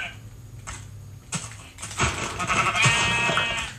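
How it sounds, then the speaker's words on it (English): Sheep bleating in a blocky sandbox video game, with a couple of sharp synthetic bleats rising over soft clicking and game noise, fairly loud and close. "Sheep."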